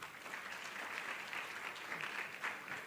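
Steady applause from a conference audience, a continuous wash of clapping at moderate level throughout.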